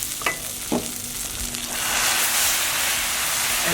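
Risotto rice with mushrooms sizzles steadily in a hot pan as it is stirred, with a couple of light scraping knocks at the start before the frying hiss swells and holds.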